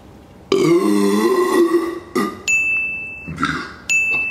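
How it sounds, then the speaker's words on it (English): A loud, drawn-out burp rumbles close to the mic for over a second, followed by a shorter grunt and a couple of quick bright clinks. "We can't have a video without a burp."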